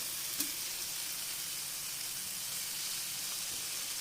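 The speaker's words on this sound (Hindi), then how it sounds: "थोड़ा सा सोया सॉस डालूंगी।" Soy sauce hitting a hot pan of lightly cooked vegetables for a doughless macaroni pizza gives a steady, even sizzle with a faint splash at the start, continuing without talk.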